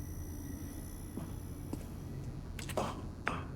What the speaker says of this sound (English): Ah, the sound of the light, so peaceful.